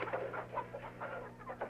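Chickens cluck in a rapid string of short, throaty calls, steady and fairly close, heard alone without any voices over a faint constant background hum.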